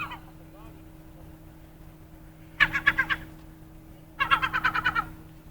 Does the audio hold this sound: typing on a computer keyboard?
no